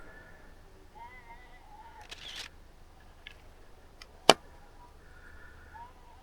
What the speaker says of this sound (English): That noise you can hear is me just flicking my teleconverter on and off.